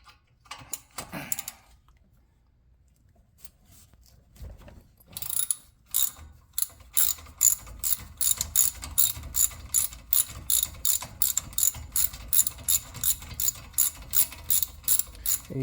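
A ratchet wrench clicks steadily while backing out a brake caliper bolt on a 2012 Ford Focus during a front brake job, preceded by a few scattered clanks, the rapid pawl clicks close and loud with no talking.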